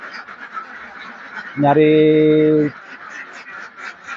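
Laying ducks on a duck farm give one loud, close quack of about a second, with a person talking before and after it.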